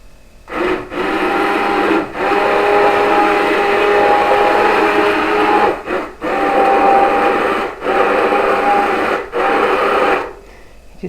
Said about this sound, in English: It's our little hand blender.